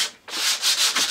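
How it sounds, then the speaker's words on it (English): Sandpaper rubbed back and forth over the edges of a drywall patch, a series of close, steady abrasive strokes with a brief pause near the start. "sand your edges"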